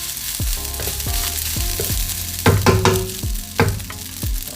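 Pork fried rice sizzles loudly in a hot pan, with repeated clanking scrapes and stirring strokes from a spatula over a steady frying hiss, and no talking.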